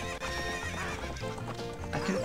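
Epona the horse in Zelda: Ocarina of Time gives a loud whinny over rhythmic galloping hoofbeats while game music plays underneath, with no talking.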